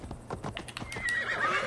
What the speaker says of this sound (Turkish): Atı çağıralım.